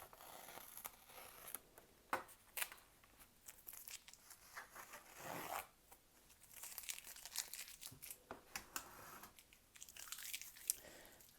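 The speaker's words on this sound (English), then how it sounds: "Let's take off our tape because now we can take it off on all 4 of them for good" Masking tape peeled off watercolor paper after painting sunsets, heard as faint, close crinkling and tearing strips in short bursts separated by quiet pauses, with no talking.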